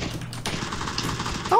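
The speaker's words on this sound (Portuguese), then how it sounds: "Deu um tiro nele." Gunfire in a shooting video game: a quick burst of shots and clattering impacts, heard under voices talking.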